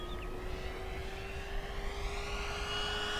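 An FMS P-47 1700mm RC model warplane drones past with a steady propeller whine that swells slightly as it passes, heard from a distance over light wind noise.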